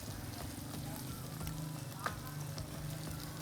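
Liver browning in a hot pan gives a steady, low crackling sizzle with a soft grainy hiss, close and fairly quiet. It carries on evenly throughout with no clear talk.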